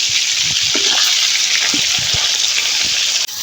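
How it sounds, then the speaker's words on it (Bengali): Rui fish frying in hot oil in a pan, a steady loud sizzle with soft bumps and scrapes as a piece is turned over, and a brief dip near the end. "আজকে হালকা করে ভাজে নেওয়া লাগবে আমি এখন একটা পাশ উল্টাই দিচ্ছি"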